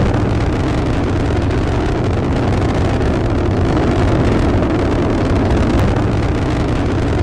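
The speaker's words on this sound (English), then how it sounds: "here is the sound of an actual rocket launch that I purchased on NASA's website" Recording of an actual NASA rocket launch: a loud, continuous, rough broadband roar with deep rumble that holds steady and unbroken throughout, with no voices.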